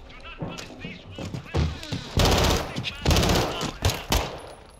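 Gunfire in the Call of Duty: Modern Warfare II campaign, with dense bursts of rapid automatic shots and heavy thuds in close quarters, loud and continuous, as a player talks excitedly over the fighting.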